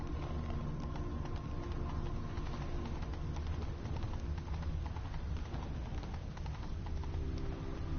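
Roach, a horse in The Witcher 3, gallops in a steady, continuous clip-clop of hooves under a dense bed of game ambience, loud and close throughout.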